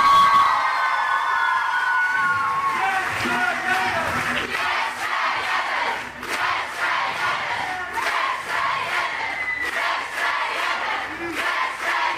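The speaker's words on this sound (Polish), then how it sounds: "oklaski dla nich jeszcze głośne" Large concert audience cheering, shouting and applauding loudly and continuously for a Christian band at a youth festival event, a dense roaring crowd with no clear talk over it.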